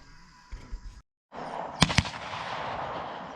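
Two sharp shotgun blasts ring out in quick succession during a dove hunt in Southern Virginia, loud and close against outdoor ambience after a brief silence.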